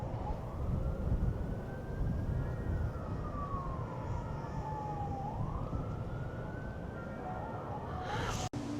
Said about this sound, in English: I hear sirens out there.